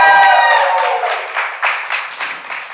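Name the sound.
audience cheering and applauding for the guest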